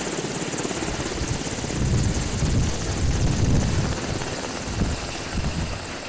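A military helicopter flies steadily and loudly in a continuous rotor and engine roar that swells and eases slightly, carrying a special forces unit on an aerial insertion over a city.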